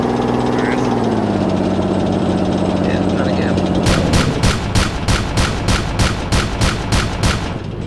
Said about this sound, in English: My gunner is shooting at a building.